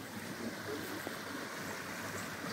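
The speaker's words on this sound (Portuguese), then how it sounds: "Cachoeirinha descendo, vai ali, que beleza." A small waterfall along a stream rushes with a steady, broad wash of flowing water, continuous and fairly close with no voices.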